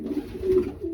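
A racing pigeon coos while held in the hand, a soft low rolling coo running through the whole moment, close and fairly loud, with no talking.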